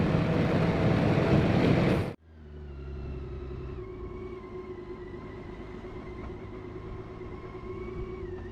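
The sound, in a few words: BMW K1600 B motorcycle engine riding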